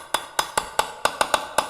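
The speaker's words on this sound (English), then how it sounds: "and flatten with a hammer." A hammer flattens the flared end of a plumbing pipe set in a mold. Eight sharp, ringing blows land close by in a quick, fairly even rhythm, with no talking.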